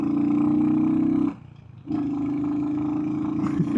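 Royal Enfield Hunter 350 single-cylinder thumper decelerating, a loud, steady low engine drone that cuts out briefly for about half a second, then resumes and holds close.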